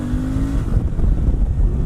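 A 2018 Suzuki V-Strom 650 motorcycle's muted exhaust pulls under acceleration, a close, steady rumble with a brief rising tone early on, no voices.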